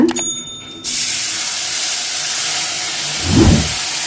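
Ground masala paste hitting hot oil with curry leaves and a pinch of asafoetida for an okra tamarind curry: a loud, close, continuous steamy hiss that begins abruptly and swells briefly near the end, with no voices.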